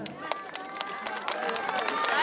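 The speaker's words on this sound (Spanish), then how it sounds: "¡El aplauso, hermanos!" Audience applause at a symphonic band concert, a steady wash of many hands clapping that grows slightly louder toward the end, with crowd noise mixed in.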